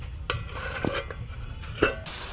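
Metal lid placed over a kadai pan of cooking mutton, several sharp metallic clinks and clanks, with one louder clatter near the end, close by in a quiet kitchen.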